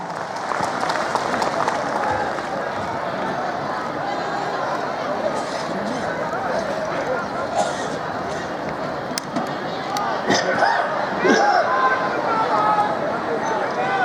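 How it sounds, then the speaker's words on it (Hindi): A crowd at a public rally for the Chief Minister of Bihar in Samastipur applauds in a sustained, dense wave of clapping that swells toward the end, with a voice speaking over it. "जोरदार तालियों से हम सब स्वागत करें माननीय मुख्यमंत्री बिहार का"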